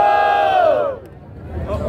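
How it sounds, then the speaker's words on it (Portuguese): A crowd at a freestyle rap battle cheers and whoops loudly, with one sustained shout fading after the first second before the roar swells again. "Barulho pras rimas do Luquinhas"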